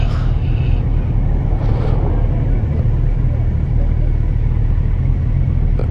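Riding a Kawasaki Versys 1000 motorcycle in a slow roll brings a steady, loud low engine rumble mixed with wind buffeting, and the rider talks over it throughout.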